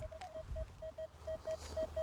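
Metal detector in a field ringing up on a buried target, a series of short, clipped electronic beeps at a fairly regular rhythm, about a dozen pulses over faint outdoor background.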